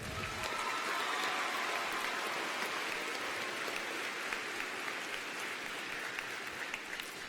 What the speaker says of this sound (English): Will everyone please join me in another round of applause?